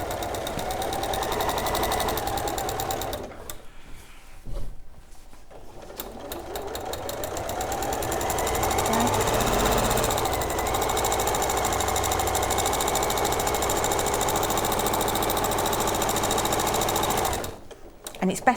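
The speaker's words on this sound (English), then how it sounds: "So I'm just going to stitch along there." A sewing machine, likely with a walking foot, stitching through several layers of a Makower Scandi Christmas panel, a steady close whirring run lasting most of the time, briefly pausing early on and stopping near the end.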